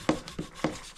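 A Scotch-Brite pad scrubs old, baked-on muck off a Suzuki RM dirt bike in three quick, close, rasping strokes of roughly even rhythm.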